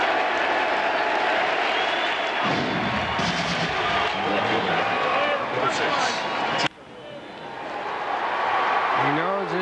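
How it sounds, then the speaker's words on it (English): A baseball stadium crowd roars at a 2001 record-breaking pinch hit, a broad, loud wash of cheering under a broadcaster's talk that drops off sharply before swelling again. "Listen to this crowd."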